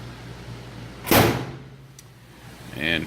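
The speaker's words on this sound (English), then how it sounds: "Alright, so shut this door." Closing the door of an HP Multi Jet Fusion 4200 industrial 3D printer gives one loud, close thump with a short sliding rush, over a low machine hum, followed by a fainter latch sound.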